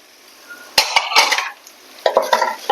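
Peppers hit a hot pan for a traditional Tunisian dish, with loud clattering strokes of a utensil against the pan in two bursts and a light sizzle underneath, no talking.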